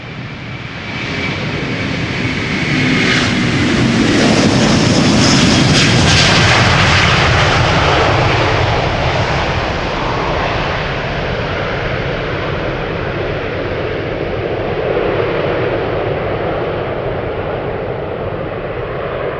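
A Delta jet airliner taxis at Schiphol Airport on a low-visibility day. Its engine noise swells into a broad, steady roar that peaks early and then holds at a slightly lower level. No one speaks.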